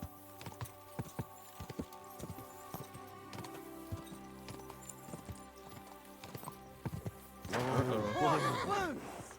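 Horse hooves clip-clop in a steady, close rhythm in the medieval video game Kingdom Come: Deliverance II, with a voice calling out and a burst of louder commotion near the end.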